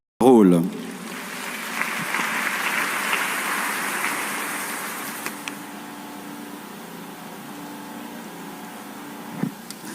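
Church congregation applauding during a French-language sermon on the Holy Spirit, a broad steady wash of clapping that swells early, holds through most of the stretch, then thins toward the end.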